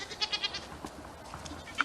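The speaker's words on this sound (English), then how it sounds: "Goats over there." Goats on a farm give several short, faint bleats in quick succession, then one more a moment later, heard at a distance over a soft outdoor background.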